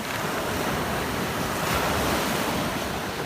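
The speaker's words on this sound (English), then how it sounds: "today we've got some good waves going on" Ocean waves on a Sanibel Island beach at high tide roar in a loud, continuous wash of surf, with wind buffeting the microphone throughout.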